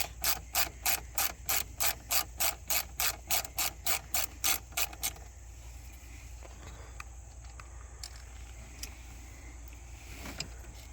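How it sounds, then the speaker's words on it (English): A ratchet fitted with an 8mm socket undoes bolts, giving a rapid, even run of loud close clicks for about five seconds, then quieter scattered mechanical taps and handling noise. "Take an 8mm socket and undo the bolts."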